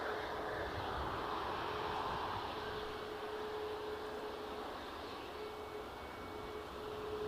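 A Ryanair airliner moves about at Edinburgh airport, a steady, moderately faint engine drone with a thin sustained tone running through it, no voices.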